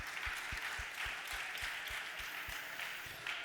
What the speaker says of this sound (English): Can I get a really soft but very sweet round of applause for, what's his name, Kurt?